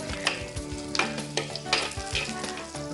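Ginger frying in a hot pan sizzles steadily while a utensil scrapes and stirs in sharp, irregular knocks, close and fairly loud with no voices.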